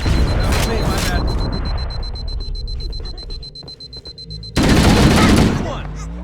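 Gunfire from the Halo: Combat Evolved Anniversary game on Xbox Series X, loud dense automatic bursts mixed with explosions, an alarm-like tone and shouting voices, easing off midway before a second heavy volley erupts.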